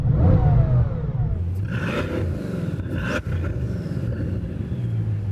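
A Bugatti Divo's 8-litre W16 quad-turbo engine revs hard nearby, starting with a deep rumble and then rising through sharp blips and a sustained roar, with no talking over it.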